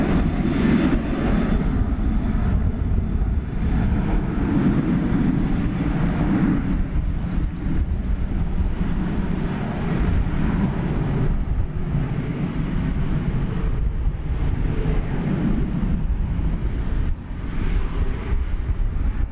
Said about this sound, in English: It's an American Airlines 737-800 going to Austin, Texas